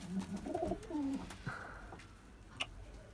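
A blue pigeon with feathered feet and yellow eyes coos softly in a few low, rolling phrases, fairly faint against a quiet background, with a short chirp near the end.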